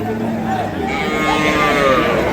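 At a rural cattle market in Thakurgaon, a dairy cow with her calf gives a drawn-out low moo close by, over a bed of crowd murmur and nearby voices.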